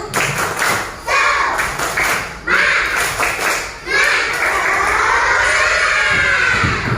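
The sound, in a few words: children doing tepuk semangat clapping chant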